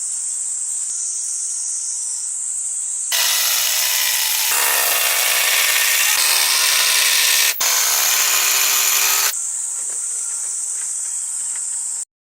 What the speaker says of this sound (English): he begins preparing the upper structure by cutting the wood to size and joining smaller pieces together to create longer beams